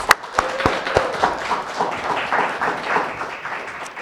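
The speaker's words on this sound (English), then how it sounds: "Another round of applause for Jayce." Scattered audience clapping after a startup accelerator final presentation, with a few sharp, close claps at the start followed by a thinner, uneven spatter of applause.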